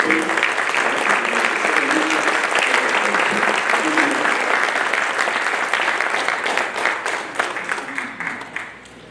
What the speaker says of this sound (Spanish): solamente les voy a pedir un aplauso para Carlos por haber puesto la ley